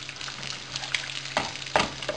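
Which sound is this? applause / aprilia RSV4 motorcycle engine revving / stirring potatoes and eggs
stirring potatoes and eggs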